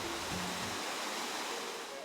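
A 12-foot waterfall built from giant boulders in a Japanese garden gives off a steady, even rush of falling water that fills the whole moment without a break.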